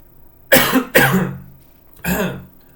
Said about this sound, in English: I'm not sick anymore, but I have this lingering cough.